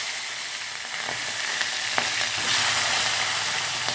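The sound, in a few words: mustard seeds, cumin and vegetables frying in pan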